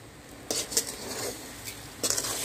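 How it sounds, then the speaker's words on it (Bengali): Spoon stirring sugar into cooked chickpea lentils in a pot for halwa, a few close scraping and clinking strokes against the pot with quiet gaps between them, no voices. "আমি ডালের সাথে চিনিটাকে ভালো করে মিশিয়ে নিচ্ছি"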